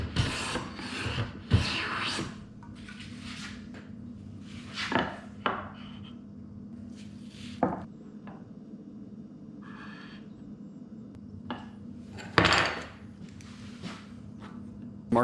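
A hand plane shaves a true edge on a wooden board in a quiet room, giving intermittent rasping strokes of varying length, with a few sharper scraping passes and soft handling sounds between them.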